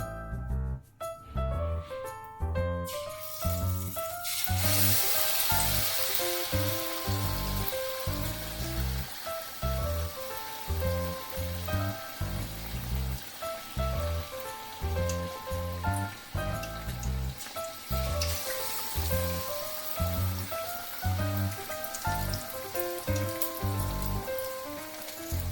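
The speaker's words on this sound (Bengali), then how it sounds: "চপ ভেজে দেখিয়ে দিচ্ছি।" Aloo chop, flattened potato patties, frying in hot oil: a steady, dense sizzle and crackle that stays loud and continuous throughout, close up with no talking.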